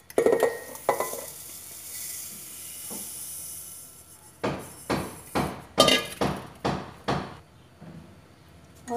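Raw mango pieces stirred together with sugar in a bowl: after a quiet stretch, a run of about seven sharp, rhythmic scraping knocks, fairly close and with no voices.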